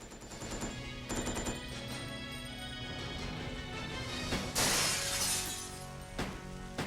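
Enemy gunfire in Resident Evil: Code Veronica X: sharp shots and shattering bursts ring out over a droning game soundtrack, with one loud burst in the middle and no talking.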